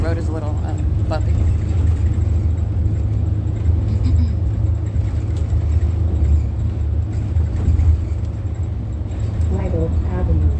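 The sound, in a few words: bus driving on a bumpy road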